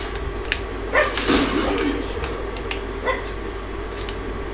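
A female dog yips and barks a few times at moderate distance, with a whimpering edge, over a steady background hum.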